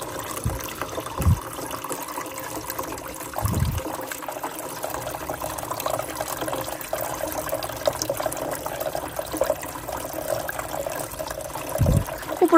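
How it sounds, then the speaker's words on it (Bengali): Water falling steadily in a garden water feature, a continuous close splash and trickle with a few soft thuds over it. "এরকম একটা ওয়েদারে এরকম পানি পড়ার শব্দ সুন্দর"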